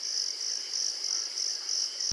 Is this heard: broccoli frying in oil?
no